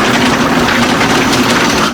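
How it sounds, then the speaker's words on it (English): A blender runs steadily, blending soaked almonds, maple syrup, filtered water and sea salt into homemade almond milk, a loud continuous motor whir with no pauses or talking. "We want to blend it for about 2 to 3 minutes."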